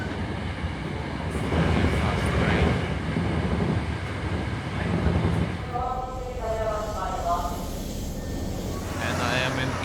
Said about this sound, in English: Kyoto train.